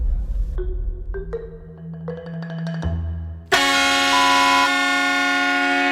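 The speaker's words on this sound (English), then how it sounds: "He blew this horn that was," A loud air horn blasts close by after a few softer, stepped tones, then holds one long, harsh, piercing note to the end.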